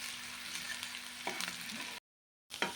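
Onion fries in a pan with a faint, steady sizzle and a couple of soft stirring scrapes, broken by a brief gap of silence before the sizzle resumes.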